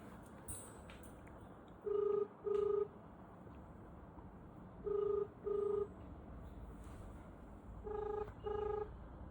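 Phone keypad dialing tones placing a call: three pairs of short, evenly spaced beeps with pauses between the pairs, clear against a quiet room background.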